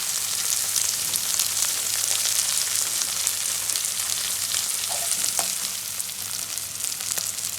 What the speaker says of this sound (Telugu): చూడండి, ఆనియన్స్ కొద్దిగా వేగాయి.